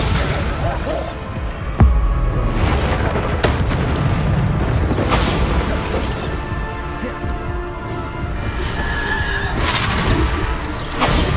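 Bombarda blasting spells go off in rapid succession during a frantic Hogwarts Legacy battle on PS5, with booming impacts, crashes and a sharp hit near two seconds over a dense, continuous wash of game effects.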